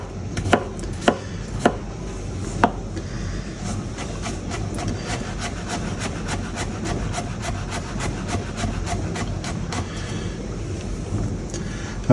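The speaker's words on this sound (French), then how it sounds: "Et je cisaille tout fin, tout fin, tout fin." A knife chops shallot finely on a board for Brazilian-style pork stroganoff, with a steady run of crisp, rapid knife strikes close by. A few louder cuts come early, and no one speaks.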